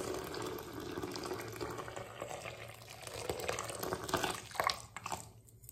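Hot water gushes from a tap into a filling basin, a steady rushing splash that swells and gurgles toward the end before stopping abruptly.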